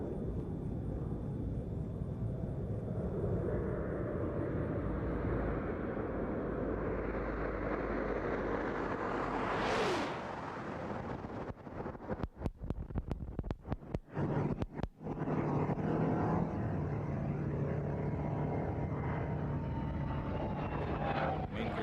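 The Space Shuttle Discovery touches down on runway 33 at Kennedy Space Center, with a loud sustained roar and rumble, a rising whoosh peaking, then a run of abrupt crackling bursts as it rolls out.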